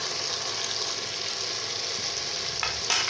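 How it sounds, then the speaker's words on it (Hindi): Chopped tomatoes and green chili drop into softened onions frying in a pan, producing a steady, close hiss of sizzling oil with a brief stirring scrape near the end. "अब हम इसमें शामिल करेंगे टमाटर चॉप किए हुए और ग्रीन चिली"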